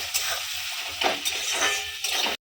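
Onions frying and being stirred in a pan, soft sizzle with a few scraping stirs in bursts, fairly close, ending abruptly.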